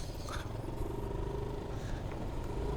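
A Yamaha Nmax scooter rides along a road and overtakes, with a steady motor drone and rushing wind over a low rumble, heard from the rider's position.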